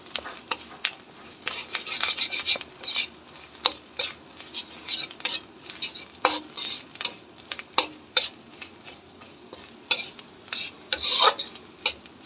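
A spoon scraping and stirring spices as they sauté in a metal pan at home, with irregular rasping strokes and clinks, close and fairly crisp, and no talk over it.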